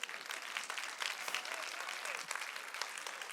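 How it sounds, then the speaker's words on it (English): An audience at a community center annual meeting bursts into applause, a continuous wash of many hands clapping at moderate volume with no speech over it. "You can applaud for that."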